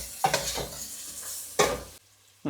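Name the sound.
stirring spices into frying khichdi in a pan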